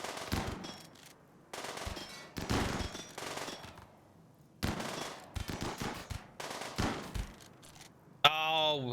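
Bursts of automatic gunfire from a video game firefight, several loud rattling volleys separated by short pauses, with a voice talking over part of the action.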